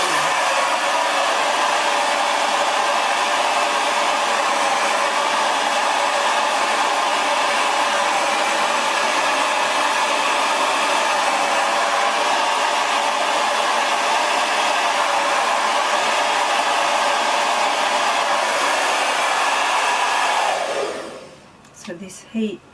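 A hair dryer blows loudly and continuously for about twenty seconds, then switches off, leaving brief quiet rustling.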